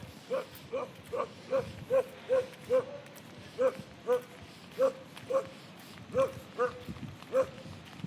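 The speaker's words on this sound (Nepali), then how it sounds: "dug barking and dug bite" A dog barking in a regular rhythm, about fifteen short, evenly spaced woofs of moderate loudness over a light background murmur.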